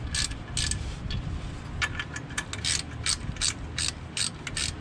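A hand ratchet tightens clutch and flywheel bolts on a GTI-R swapped Nissan Sentra B13 fitted with an ACT clutch and competition flywheel: repeated rapid clicking bursts, close and sharp, with short pauses between strokes.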